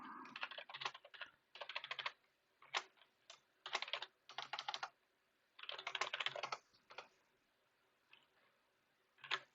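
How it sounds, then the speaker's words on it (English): Quick bursts of typing on a computer keyboard, close and quiet, with clustered key clicks separated by short pauses while a game developer builds behavior trees. "You can't see me type in stuff."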